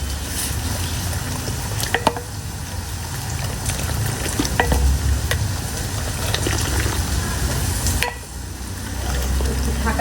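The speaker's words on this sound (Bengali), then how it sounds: "এখন হচ্ছে এইভাবে নাড়াচাড়া করে না ভেজে দিব ভাজা ভাজা করবো" Chicken stir-fries in a pan, a steady close sizzle and bubbling with repeated scraping and stirring clatters throughout and a brief dip near the end.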